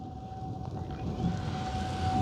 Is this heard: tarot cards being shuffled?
no